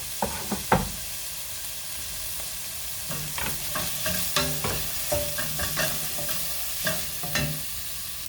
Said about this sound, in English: we're going to be adding the garlic and then the ginger. And we're going to cook this for 2 minutes